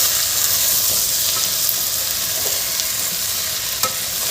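Masale bhat with fresh coriander is stirred in a hot pan, a steady frying sizzle under soft scraping strokes and occasional light spoon knocks, close and without talk.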